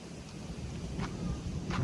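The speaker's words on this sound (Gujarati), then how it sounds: "વરસાદ આવે છે એ નથી વરસાદ આવે છે" Low rumbling of thunder under a steady wash of rain, brief and moderately loud, with no voices.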